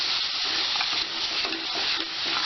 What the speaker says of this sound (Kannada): ಇವಾಗ ನಾವು ರುಬ್ಬಿರೋ ಮಸಾಲೆ ಹಾಕ್ಕೊಳ್ಳೋಣ. ಚೆನ್ನಾಗಿ ಮಿಕ್ಸ್ ಮಾಡಿ.